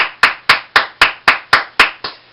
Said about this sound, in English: I want to give a big rousing applause